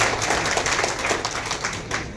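A crowd applauds a newly elected Congress mandal president at a Gandhari mandal meeting, with brief, dense, steady clapping from many hands at close range.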